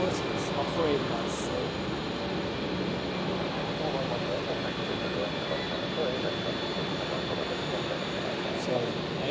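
A jet airliner departs Zurich Airport on a foggy morning, its distant engine roar a steady, moderate rumble with a faint whine on top.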